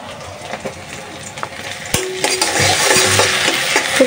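Fresh small river fish curry with spices cooks in a pan, giving a steady sizzle and frying hiss with occasional stirring scrapes and utensil knocks, rising louder in the second half.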